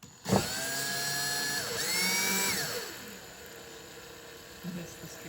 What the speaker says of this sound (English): Drilling them in